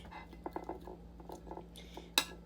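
Half an onion being diced into cubes with a knife on a board, a run of light, quick chopping taps close up and fairly quiet, ending in a sharp clink.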